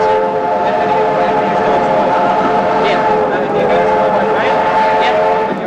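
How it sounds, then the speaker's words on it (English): An old train restored in 1954 for the railway centenary runs on rails with a steady, loud rumble and rolling clatter close by, while people talk over it. "this train was done up in 54 for the railway centenary"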